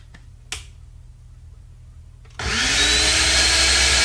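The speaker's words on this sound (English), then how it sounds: "I'm going to put it in the blender" Cranberry cherry mixture whirring in a kitchen blender, starting abruptly after a couple of quiet seconds with a click and then running loud and steady close up, no talk.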